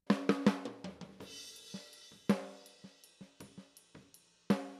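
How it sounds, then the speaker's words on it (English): Snare drum picked up by the top snare microphone, sharp hits in irregular rhythm, some quick rolls and ghost notes, each stroke ringing briefly, close and alone. "It's got a lot of that ring, a lot of the body of the snare drum itself."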